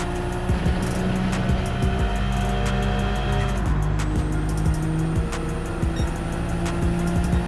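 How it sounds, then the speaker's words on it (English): A Nismo R34 GT-R in Gran Turismo 7 at Kyoto, its engine revving and pulling hard under acceleration with a short dip as the throttle lifts and flutters, then a sustained loud drone, close and continuous. "I start fluttering the throttle to get my speed back up until I can go flat out on the exit"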